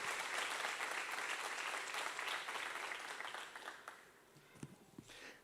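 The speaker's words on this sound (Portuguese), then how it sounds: "Aplaude Ele, aplaude em nome de Jesus." A church congregation applauds, dense clapping that holds loud for several seconds, then thins out and fades to a few scattered claps.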